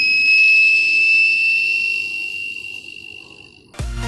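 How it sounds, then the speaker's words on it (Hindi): A homemade kitchen fire alarm sounds a steady, piercing high-pitched tone that holds for several seconds and then fades, before a sudden clunk at the end. No voices. "अगर किचन में आग लग जाए तो ये ऑटोमेटिक साउंड करेगा"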